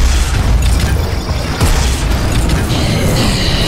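Rocket launcher blasts in the shooter game Prodeus: heavy, loud booming explosions that fill the whole clip with a dense, rumbling low end and crashing debris, with no talking.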